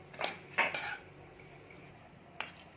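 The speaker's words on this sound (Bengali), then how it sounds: "এখানে আমি ভালো করে মিশিয়ে নিচ্ছি আলুটাকে" Boiled potatoes being mixed in a bowl, a few distinct clinks and scrapes of a utensil against the bowl in short bursts, quiet and close with pauses between.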